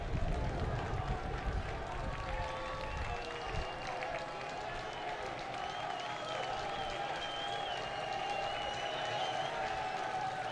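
A Louisville City supporters section at a football match cheers and claps in a dense, steady crowd roar that sits at middle distance and holds for the whole stretch, with a commentator's voice audible over it.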